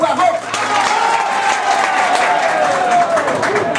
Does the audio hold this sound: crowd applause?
yes